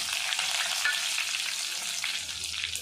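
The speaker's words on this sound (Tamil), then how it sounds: "கால் ஸ்பூன் கடுகு கால் ஸ்பூன் சோம்பு நல்லா பொரியுது பாருங்கள்" Mustard and fennel seeds splutter in hot oil with a bright, steady crackling sizzle, close and fairly loud, unbroken for a few seconds with no speech.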